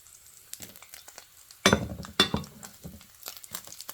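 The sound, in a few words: bacon frying in a pan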